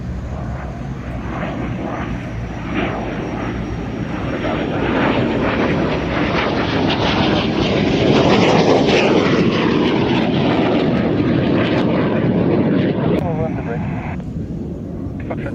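Aircraft taxiing at the Royal International Air Tattoo airshow, a loud continuous engine roar that swells toward the middle and eases off again, steady and close throughout, with faint voices mixed in.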